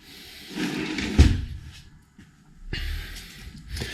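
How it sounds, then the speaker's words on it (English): A soft-close cabinet door on self-closing hinges in a tiny house shuts with a muffled thud, followed by a quieter second cabinet sound a moment later, close by with no talking. "Got lots of nice cabinets with adjustable shelving in them. Self-closing hinges, soft close."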